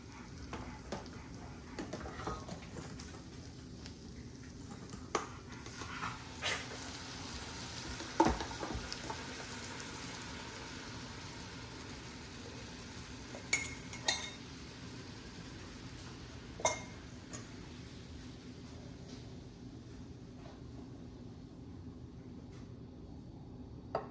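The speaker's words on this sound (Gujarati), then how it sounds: "આપણી કઢી છે એને આપણે હવે એડ કરી દઈશું." Paneer matar kadhi sizzles quietly in a pan for over twenty seconds, a soft steady frying hiss broken by a few light clinks as it is stirred, with no talking.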